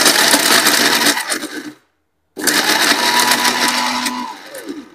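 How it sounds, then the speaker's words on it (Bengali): A powerful blender machine crushing brick, a loud, close grinding roar that stops briefly and then starts again, the motor pitch shifting as the chunks break down. "ইট কিন্তু এখন ব্লেন্ডার করতেছি ইট,"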